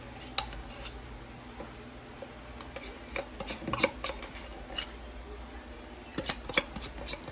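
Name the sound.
spooning hominy corn porridge out of an Instant Pot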